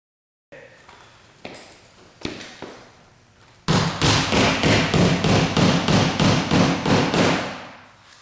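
Nails are driven by hand into a baseboard: a few separate light taps, then a fast, steady burst of about fourteen loud, close hammer blows that stops abruptly.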